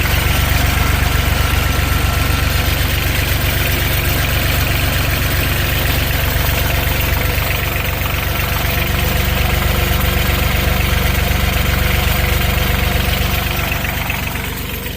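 A skid steer engine idles steadily with a hole in its radiator and worn motor mounts, its loud, continuous rumble mixed with metallic rattling and vibration throughout.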